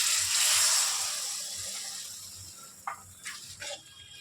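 Water is poured into a pan of papaya fish curry on a gas flame turned low, a steady soft gushing splash that tapers off, followed by a few brief clinks near the end.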